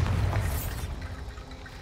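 A Bombarda spell explosion in the video game Hogwarts Legacy hits as a loud booming burst, then fades into a low lingering rumble.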